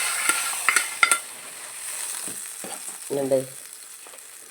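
Chili powder hits hot oil in a spice tempering for brinjal moru curry, making a soft sizzle with a few sharp clinks of a utensil at the start and a brief voice partway through.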